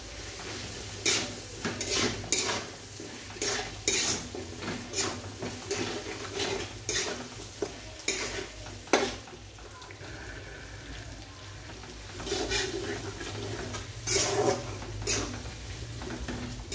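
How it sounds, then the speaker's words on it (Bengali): Potatoes with spices being stir-fried in a pan, with a spatula scraping and clanking against the metal in quick, uneven strokes over a low background hum, with brief pauses between bursts. "আলুটা আমি এখানে দিয়ে কষিয়ে নেব"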